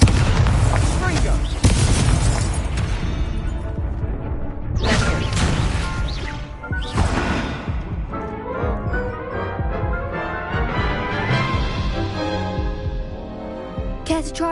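Repeated Confringo blasting spell explosions in Hogwarts Legacy, loud booming bursts with sharp crashes recurring through a busy battle mix, with voices speaking over parts of it.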